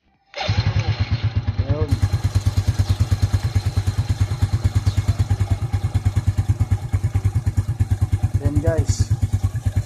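Kawasaki Fury motorcycle fitted with a KS1 racing CDI, its engine starting after a brief silence and then running close by with a fast, even thumping idle, while someone speaks briefly over it.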